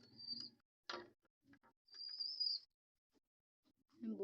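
A newly paired couple of pigeons giving soft, brief calls and chirps in short bursts, with gaps of quiet between them and a few faint rustles nearby.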